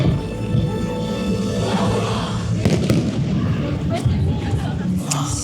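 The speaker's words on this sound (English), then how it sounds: "you can see fireworks from here" Fireworks burst over EPCOT at Walt Disney World, heard from the Communicore Plaza area as a steady run of distant booms and crackles layered over piped-in park music and crowd murmur.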